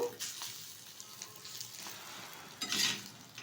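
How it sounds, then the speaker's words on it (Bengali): An egg omelette frying on a flat griddle pan, a soft continuous sizzle with faint scraping and a brief louder hiss near the end, close and fairly quiet. "একটা অমলেট ভেজে নেব অমলেটটা এবার ফোল্ড করে নেব"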